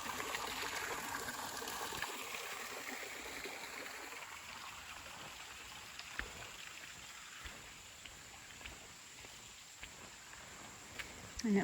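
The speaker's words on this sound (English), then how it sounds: "We have this pretty creek flowing right next to it." A creek runs beside a paved path in a park, giving a soft continuous trickle and wash of water, faint and fairly distant, with occasional small ticks and knocks.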